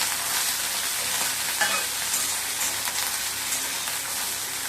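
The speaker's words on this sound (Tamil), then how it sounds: "அதில் இந்த கத்திரிக்காய் நல்ல வேகும். ஆயில் நல்லா வதங்கணும் கொஞ்சம் நேரம்." Eggplant sautéing in hot oil for a brinjal pachadi gives a steady, close, fairly loud sizzle with faint crackles throughout, and no one speaks.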